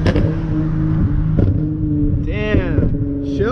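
A tuned Nissan G35 coupe revs hard through its gears, the engine tone climbing, dropping at each shift and rising again in loud, close pulls from inside the cabin.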